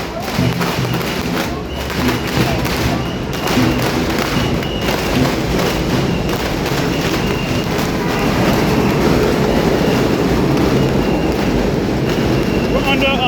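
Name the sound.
train passing overhead at a major train station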